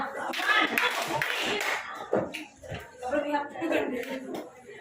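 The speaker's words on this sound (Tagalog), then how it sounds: "Bigyan natin si Vivian ng 3 bagsak na palakpak" A class claps in unison in a few quick, sharp bursts, close and moderately loud, with voices talking and chuckling around them.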